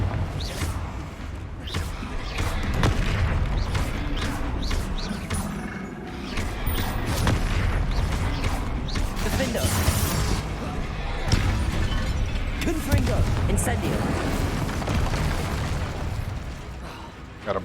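Repeated Confringo blasting-spell explosions in Hogwarts Legacy during a troll fight, a continuous barrage of booms, crashes and sharp bursts layered with combat effects, while a player talks throughout.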